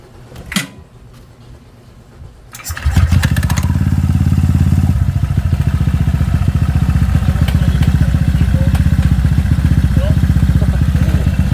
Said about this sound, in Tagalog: Bumibirit ako.